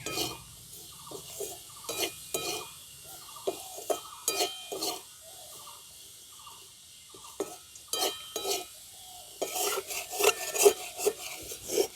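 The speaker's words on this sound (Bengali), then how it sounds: "নামানোর পরেও কিন্তু কনস্ট্যান্ট এইভাবে নাড়তে হবে, থামা চলবে না" Sugar-coated chickpeas are stirred continuously in a pan as the sugar dries. Gritty scraping strokes repeat in an uneven rhythm, with occasional light clinks, at moderate volume.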